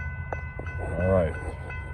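Norfolk Southern train NS 153 rolls past on the Charlotte District, its horn sounding once in a brief swelling blast over a steady rumble of wheels and passing cars, heard from trackside.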